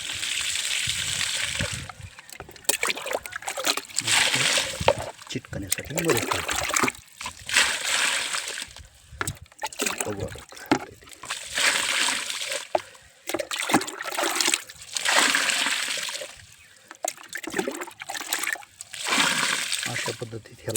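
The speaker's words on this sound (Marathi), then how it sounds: "परत ह्याला आपण ह्याला आता पाणी घालूया." Water splashes and trickles onto the soil around a newly planted tamarind sapling in a field, coming in repeated bursts with pauses, while someone talks throughout.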